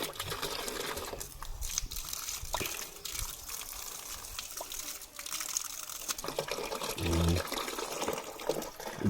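Water dripping and trickling from a leak on a farm, a steady close wet patter with splashy bursts and a brief low knock near the end.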